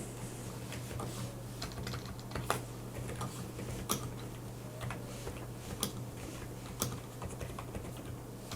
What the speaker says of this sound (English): This has what they call CSOC switches, which are linear but have a higher activation force than a red switch does.